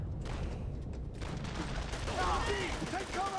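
Light machine gun bursts and distant shots on Mount Tapochau in Call of Duty: World at War, with battlefield noise and someone speaking over it.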